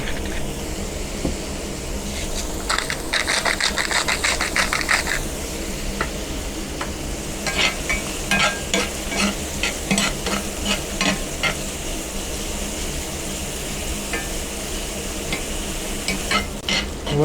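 Mushrooms seasoned with salt and pepper are stirred and fried in a pan, with a steady sizzle and repeated scraping, clattering stirs that come in bursts close to the listener.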